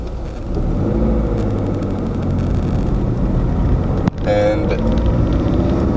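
Turbo Subaru Crosstrek with an unequal length turbo manifold, a steady low engine rumble heard from inside the car while driving, with a brief clunk partway through and someone talking over it.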